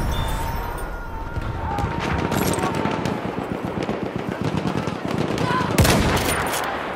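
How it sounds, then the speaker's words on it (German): Machine gun fire bursts in rapid rattling volleys during a first-person shooter battle, loud and close, with a shouting voice partly over the shots and a sharp impact near the end. "Maschinengewehr gesichtet!"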